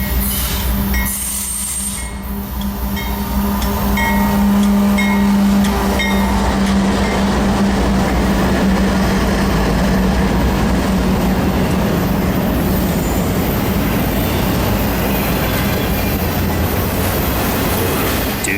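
Freight train Q582 rolls past trackside at close range, a loud, steady rumble of rail cars with metallic clinks and wheel clatter running unbroken throughout.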